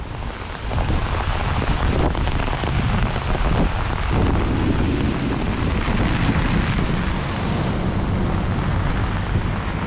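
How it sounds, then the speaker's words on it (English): Strong gusts of roughly 40 mph wind buffet the microphone with a constant loud roar and low rumble as heavy rain falls during a thunderstorm over the New York City skyline, with no talking throughout. "This is probably, I don't know, 40 miles an hour winds, I would guess, something like that. So it's pretty gusty."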